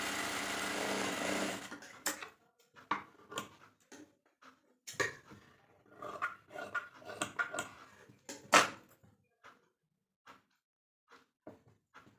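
A sewing machine stitches a blouse in short, uneven bursts after an opening stretch of steady running, with clicks and pauses between the runs and no talk.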